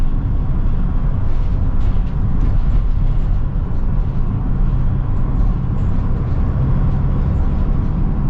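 A Mercedes Sprinter van climbs a hill under acceleration, its engine a continuous low, loud rumble mixed with road and wind noise heard from inside the cabin, holding steady throughout.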